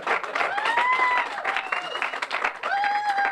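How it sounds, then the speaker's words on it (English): Crowd clapping at an outdoor park ribbon-cutting event, sustained applause with cheering and whistles rising over it, some voices mixed in. "you can clap for your neighborhood"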